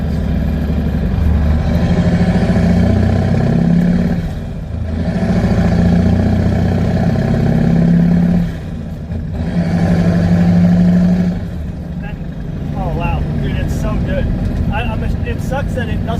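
A medium duty truck with a CAT 3208T turbo diesel drives along, its deep engine drone swelling in long surges and easing between them, loud and close with a brief voice partway through.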